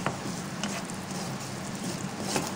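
Chopped green chillies are stirred into a hot frying pan, giving a steady close sizzle with soft stirring scrapes and crackles throughout.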